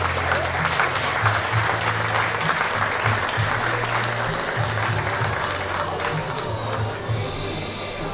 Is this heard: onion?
no